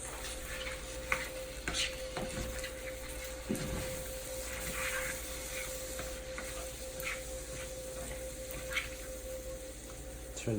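Chicken stir-fry sizzles steadily in a pan on the stove while a utensil scrapes and stirs at irregular moments, quiet and close, with no talking.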